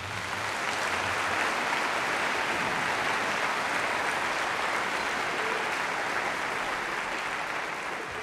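An audience applauds at a Sacramento performance event, a broad, even wash of clapping that holds loud and steady throughout without voices.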